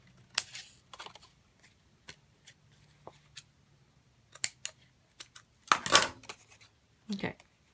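Scissors trim lace on a paper craft witch's boot: a series of short, sharp snips, scattered and irregular, with a quiet voice talking between the cuts.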